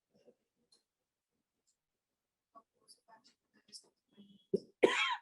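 A person coughs once, loud and close, at the end after scattered quiet speech and small sounds in an otherwise silent room.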